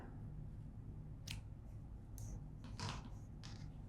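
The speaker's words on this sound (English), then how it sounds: "just pull a long tail here, and we're going to snip" Scissors snip through a crocheted yarn tail while fastening off a minty teal granny-square motif, giving a couple of faint, brief clicks over a low background hum.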